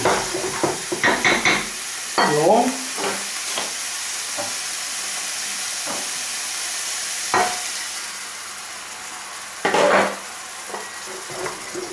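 A veal pan sauce with mustard sizzles as a little water is added, a steady frying hiss broken by several sharp clinks and scrapes of a utensil stirring against the pan.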